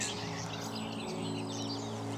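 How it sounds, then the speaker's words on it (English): A red-listed nightingale sings in dense, rich phrases from the countryside at Knepp in spring, set among other birdsong and steady background hum, moderately distant and continuous. "One of our jewels in the crown is the Nightingale, which you can hear behind me."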